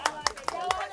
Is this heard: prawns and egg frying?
no